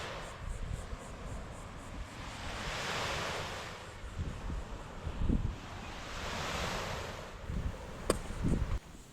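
Ocean waves roll onto a beach near Fort Pickens campground, with steady surf washing in broad swells and wind buffeting the microphone throughout.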